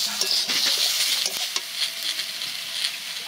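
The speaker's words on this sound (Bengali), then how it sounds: "এবার সব কিছু দিয়ে ভালোভাবে কষিয়ে নেব।" Potatoes with turmeric, cumin, coriander and chili powder sauté in a wok, giving a close, busy sizzle broken by scraping stirs and light clinks of the spatula.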